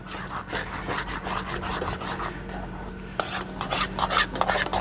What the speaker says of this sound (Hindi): हिलाते रहेंगे इसको, छोड़ेंगे नहीं वरना ये नीचे से जल जाएगा